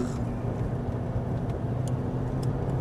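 A Ferrari 458 Italia engine drones steadily while the car is driven on a track, heard as a low, even hum from inside the car with no talk.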